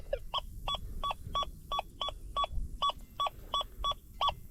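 An XP Deus 2 metal detector on the Gold Field relic-hunting program sounds a target tone: about a dozen evenly spaced electronic beeps, each with a two-pitch tone, over low ground rumble and handling noise, and no voices.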